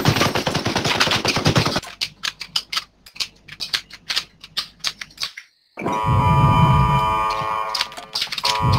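Gunfire in the Lost Light shooter game: a dense rapid burst at first, then a string of separate sharp shots in an uneven rhythm, a brief silence, and loud rumbling combat noise afterward.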